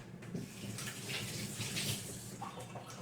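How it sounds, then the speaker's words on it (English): Tap water runs steadily over hands being rinsed in a kitchen, a soft close splashing hiss that lasts the whole few seconds without talk. "Let me rinse my hands."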